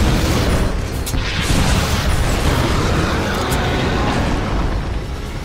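Rocket explosions in the first-person shooter Duke Nukem Forever form a loud, continuous, dense rumble of booms and blasts that stays close and heavy, with no talk over it.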